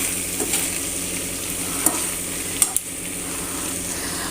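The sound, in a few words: onions being stirred gently in a pan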